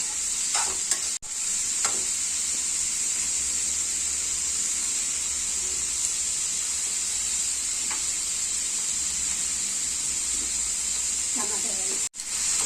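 Onions and green chillies frying in oil in a kadai on a stove, a loud continuous hiss and crackle running steadily throughout with a few faint stirring knocks, close up and without speech.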